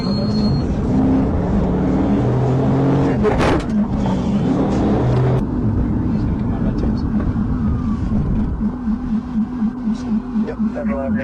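A police car drives down a street, its engine and road noise running loud and steady throughout, with a brief siren-like burst in the first seconds and talk heard over the driving.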